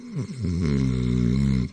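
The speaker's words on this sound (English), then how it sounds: "listening to his soft snores" A sleeping man gives one soft, drawn-out snore with a low, rumbling drone that rises and then fades. It is close and heard alone.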